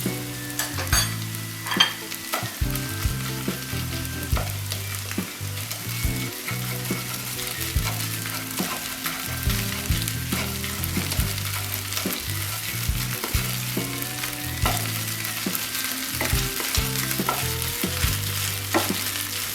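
Ginger paste and spices fry in a pan with a steady, dense sizzle and intermittent stirring scrapes, close and continuous with no speech, while fish is being cooked.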